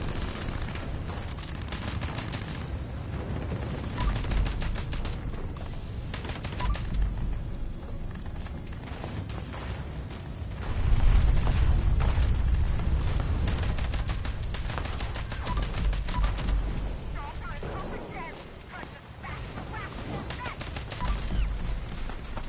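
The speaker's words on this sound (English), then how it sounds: "Trying to shoot them all." Repeated bursts of rapid gunfire ring out while enemies are shot in Fallout 76, clusters of shots spaced by short pauses over a steady background din of combat.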